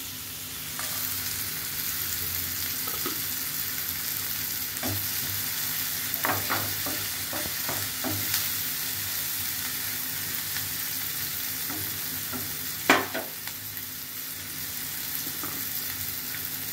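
Minced chicken keema sizzles steadily in a hot pan with garam masala while a spoon scrapes and stirs, giving occasional sharp clicks over the constant frying hiss, close and alone.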